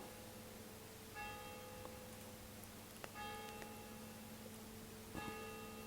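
A church bell tolls three times at slow, evenly spaced intervals during a quiet breathing meditation, each faint ringing strike fading away against a soft, steady background hum.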